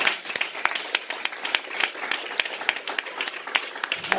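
A church congregation applauds through a worship service, a steady patter of many hands clapping with no voices over it.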